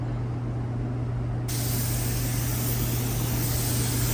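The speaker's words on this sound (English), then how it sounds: "So I'm gonna spray this here without the light" A continuous hiss of an aerosol spray can, steady and close, over a low constant hum, growing brighter partway through.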